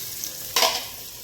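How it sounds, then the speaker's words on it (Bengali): Onions frying in a pan until browned, a steady soft sizzle with a sudden louder burst of crackling midway that then settles back down, with no one talking. "আলু মাখাটা করবো, তার জন্য পেঁয়াজটা ভেজে নেবো ভালো করে,"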